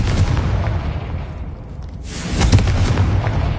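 A Confringo blasting spell goes off in Hogwarts Legacy, heard as a loud, close, booming burst with a sharp crack that leaves a low rumble, set amid ambient game noise with no talking.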